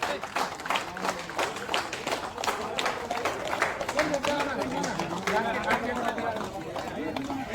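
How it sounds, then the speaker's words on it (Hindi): A crowd claps for the players at a village football league award ceremony, uneven rhythmic hand claps mixed with busy chatter and voices talking over them throughout. "लोग इतना मेहनत किया है, ताली बजवाइए कम से कम।"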